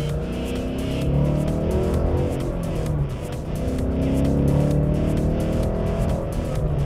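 A Ford Mustang GT fitted with KONI sport shocks and Eibach lowering springs accelerates on a rough road, its engine droning loud and close, swelling twice as it revs, with rattly road noise underneath.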